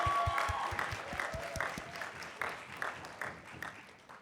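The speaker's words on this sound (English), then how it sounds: "give it a round of applause for my MC, Emily, right here, who's assisting me." Audience applause at a youth leadership conference, scattered claps rising into a crowd cheer that tapers off over about four seconds.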